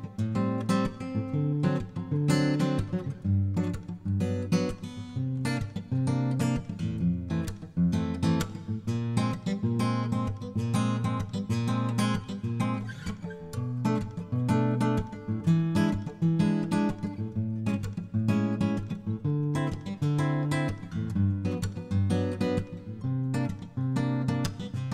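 An acoustic guitar through a Berlin K53 mic emulation on an Antelope Audio Verge microphone, strummed steadily and evenly for the whole stretch, bright and close with no voice.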